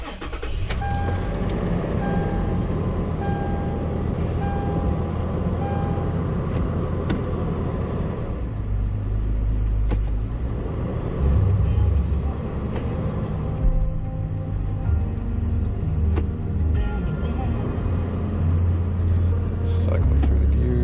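A 2014 Toyota 4Runner idling while its transmission is shifted through the gears during a drain-and-fill service, a low steady engine rumble with occasional thumps and shifts in tone, a radio and some talk faintly over it.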